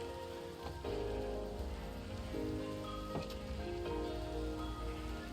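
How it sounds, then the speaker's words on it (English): Steady rain in the Minecraft video game falls as a dense, even patter of soft droplets that stays at a constant, moderate level with no talking. "The rain's kind of annoying, but it's whatever."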